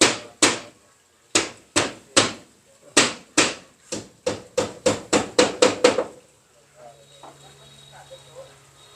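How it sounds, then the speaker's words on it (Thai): About a dozen sharp hammer blows on wood, close and loud, speeding up into a quicker rhythm before stopping, followed by faint rustling. "ตอกขึ้นเลย"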